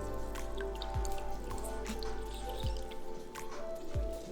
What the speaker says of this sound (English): Squeeze all the juice that you can out of that orange.